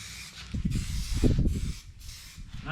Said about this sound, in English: Nice thick coat of the TrinsStar. Emptied that can.